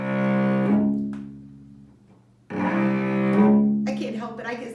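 A string bass plays the minor second of the Jaws theme: two low, sustained bowed notes alternating with a gap between them, close and full, with a brief higher scrape at the end.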